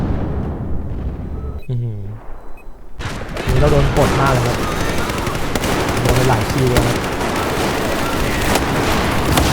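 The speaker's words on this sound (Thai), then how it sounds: "บอกตรงเลยนะจังหวะนี้ระเบิดเยอะมาก" A Battlefield 4 multiplayer match roars with heavy gunfire and explosions in an urban battle, dense and loud after a brief quieter start, while a player talks excitedly over the din.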